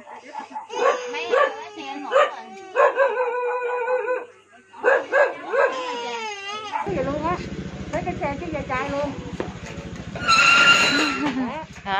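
A dog at a poor neighborhood home yips, barks and howls in several close bursts, with people talking and a low rumbling background noise partway through.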